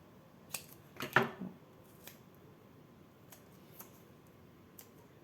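Scissors cutting paper for a handmade card, a few quiet close snips and crisp rustles, one brief cluster louder than the rest, amid faint background ticks.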